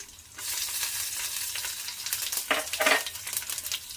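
Garlic and dried red chillies tempering in hot oil, a steady loud sizzle and crackle with stirring scrapes, swelling briefly near the end, no voices.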